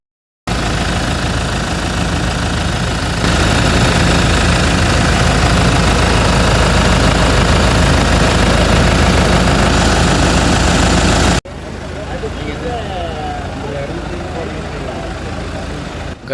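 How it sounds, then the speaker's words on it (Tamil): A New Holland Workmaster 105 tractor engine runs steadily at idle, a loud, continuous low rumble with diesel vibration that shifts slightly in tone partway through and drops in level near the end. "இந்த வண்டியோட சவுண்டு கேளுங்க."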